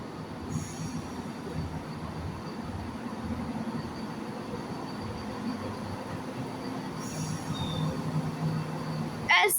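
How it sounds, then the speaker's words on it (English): A ScotRail diesel train pulling into Dundee station, a steady engine drone and rolling wheels with brief high wheel squeals, growing slightly louder toward the end. "And there's the train just arriving."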